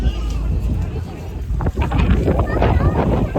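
Strong wind buffeting the microphone on the deck of a moving RoRo ferry from Hazira to Ghogha, over a low engine rumble and rushing water, with people talking nearby.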